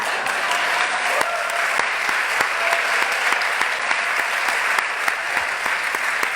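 An audience applauds steadily and loudly throughout, a dense wash of clapping with a few sharper individual claps standing out.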